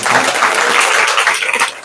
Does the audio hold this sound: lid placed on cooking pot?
no